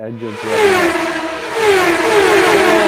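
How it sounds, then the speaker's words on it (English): Formula 1 race car engines scream up through the revs in a loud, high whine that climbs and holds, filling the moment with no talking over it. "Formula. You heard that? Did you hear that? What was that? Engines."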